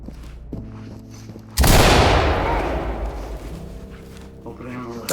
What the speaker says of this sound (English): Move in, toss a bang and clear.